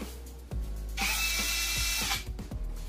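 A Maxell 20-volt cordless drill whirs at high speed for about a second, preceded and followed by clicks and handling knocks, close and fairly loud.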